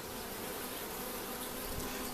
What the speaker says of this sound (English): at least this time I'm seeing some bees on the actual drawn comb